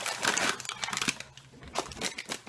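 Plastic bags holding homemade breakfast portions are handled and crinkled up close, a busy stretch of dry crackling rustles with a short lull in the middle before the crinkling picks up again.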